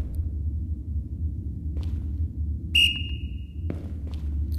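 A whistle blown inside the VRChat video game gives one clear, steady high tone lasting about a second over a low, constant rumble.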